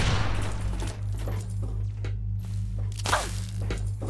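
An alien energy weapon fires in Fallout 3, a cluster of sharp blasts and swooshing discharges over a steady low hum, loud and close.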